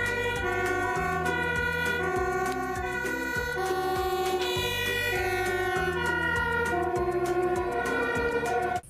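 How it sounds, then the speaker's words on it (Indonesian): A toy fire truck siren plays a repeating electronic wail, loud and close, cycling steadily through its tones without pause. "Ini adalah truk damkar."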